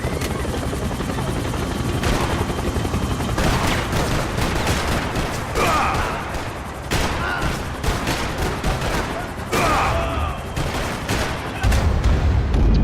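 Heavy gunfire in Max Payne 3, fusillades of rapid shots and bursts cracking over a constant helicopter-like rumble, loud and dense throughout with a few lulls.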